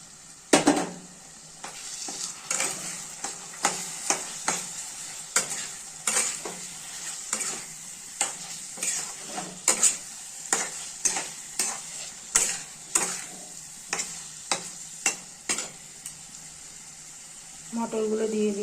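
Peas stirred into a hot pan for a vegetarian matar paneer, with steady sizzling frying and a regular rhythm of spoon scrapes and clacks against the pan, close up.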